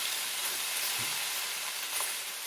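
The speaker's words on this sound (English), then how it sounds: "we're going to start by cooking our kielbasa here" Kielbasa sausage sizzles in a very hot skillet, a steady broadband hiss that holds at an even level throughout, with a soft low thump near the middle.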